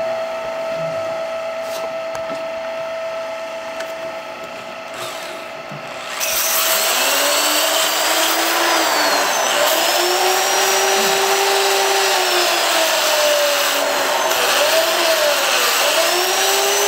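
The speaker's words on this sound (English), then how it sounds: "now I want to do a little bit of sanding." A loud, steady whirring drone of a wood lathe starts abruptly partway through, with a hiss of 220-grit sandpaper on the spinning wood riding over the motor hum.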